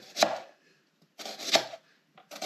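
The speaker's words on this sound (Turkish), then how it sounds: "Şimdi bu soğanları ince ince doğrayacağız." Knife strokes thud on a cutting board as onions are chopped, two bursts of chopping with a pause between, then a third beginning, close and crisp.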